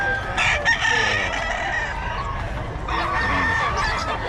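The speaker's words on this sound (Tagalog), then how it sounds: "Ayun ang manok ni Boss Eric for Golden Boy." A fighting cock crows in a small-time seller's yard, a strained, wavering call that rises and fades against a steady noisy background of other birds and ambient hum.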